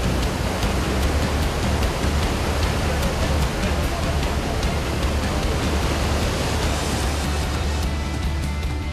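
Heavy surging ocean waves crash and churn at the mouth of a sea cave on the Indonesian coast, a loud, continuous roar of broadband water noise with no break, close to the listener.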